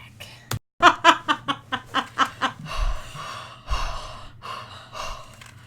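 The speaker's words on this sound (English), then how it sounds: "It's just like heavy breathing in a mic" Heavy rhythmic breathing close into a microphone, a quick series of loud panting breaths followed by slower, rougher exhalations, with no talking.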